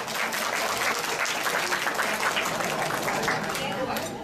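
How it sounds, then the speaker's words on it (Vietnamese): At a Vietnamese year-end party in Houston, a crowd claps in sustained, even applause that stays loud and steady throughout, with no pauses. "Xin quý vị cho một tràng pháo tay cho anh phó trưởng lớp."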